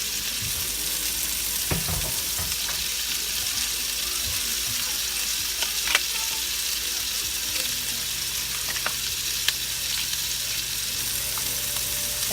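Steady sizzling and bubbling from meat cooking in water in a pan on the stove for Irish stew, with occasional clinks of a utensil, fairly close and continuous.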